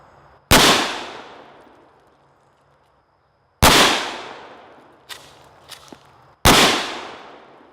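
Mossberg Shockwave 14-inch-barrel shotgun fires 00 buckshot: three loud, sharp blasts spaced a few seconds apart, each trailing off in a long echoing decay, with a couple of faint clanks between the second and third shots.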